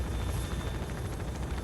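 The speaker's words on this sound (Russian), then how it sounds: "И они, по-моему, вызвали вертолет." Helicopter rotor drone in the S.T.A.L.K.E.R. Wind of Time game as the aircraft arrives over a rooftop, a steady low throbbing chop that fills the whole short stretch at moderate loudness with no talk.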